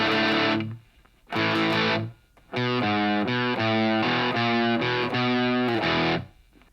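Distorted electric guitar plays chords slowly, two separate ringing hits followed by a steady run of rhythmic chord stabs, all fairly loud and close.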